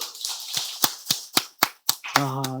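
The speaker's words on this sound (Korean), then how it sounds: "우리 박수!" A few audience members at a church Wednesday service clap in a sparse, uneven run of sharp, close claps, ending in a brief voiced exclamation.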